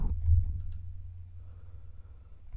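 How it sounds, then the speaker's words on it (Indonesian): A few soft clicks from a computer keyboard sound near the start, then only a low steady hum remains. "Ntar keyboard saya bermasalah ya."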